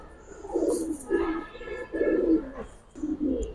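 Khaki makra pigeons coo in repeated throaty bursts, four clear rolling phrases close by with short pauses between them.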